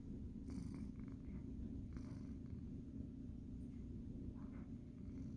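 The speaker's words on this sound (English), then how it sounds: "He's just purring and happy." A pet cat purrs steadily and continuously up close, a low rumbling drone that runs the whole time with a few faint household sounds above it.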